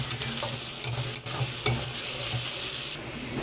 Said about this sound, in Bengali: এইবার আমি পেঁয়াজগুলোকে তেলের মধ্যে ছেড়ে দিচ্ছি।